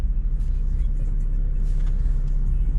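A tuned Mercedes A200 hatchback, converted to A45 styling, cruises along an expressway, giving a steady, loud low engine and road rumble throughout with no speech over it.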